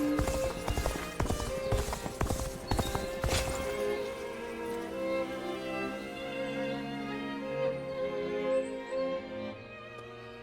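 A horse gallops in Dynasty Warriors Origins with rapid clip-clop hoofbeats that fade after a few seconds, leaving a sustained game music bed.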